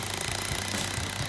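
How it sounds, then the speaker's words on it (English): A cordless impact drill drives a lag screw into a floor, giving a continuous loud, rapid hammering rattle with no pauses and no talking. "One thing I know about this drill, it's an impact cordless, I love it, is that it's biting through."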